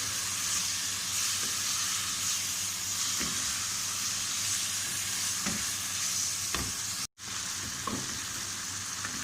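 Mutton browning in a pan, a steady dense sizzle and frying hiss with occasional stirring scrapes, close and continuous with a brief dropout near the end.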